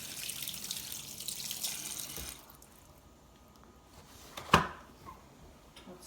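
Kitchen tap running water for a gluten-free bread machine recipe, a steady hiss that cuts off after a couple of seconds, then quiet with a brief sharp knock.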